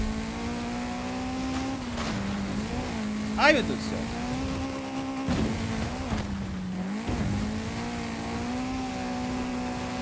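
A car engine in the racing game Forza Horizon 5, during an online Eliminator event, holds a steady loud drone throughout, with a sharp brief squeal and a few small bumps along the way, while a man exclaims over it.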